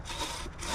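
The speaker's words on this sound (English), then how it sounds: "it's got a longer blade, and it saws nicely" A long-bladed hand saw cuts green maple firewood outdoors, giving one steady, close rasping stroke that holds a dense, even scrape for under a second.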